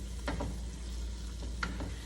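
Pasta and shredded chicken being stirred together in a large 9 by 13 family casserole dish, a few soft scraping strokes over a steady low kitchen hum, fairly quiet and close, no talking.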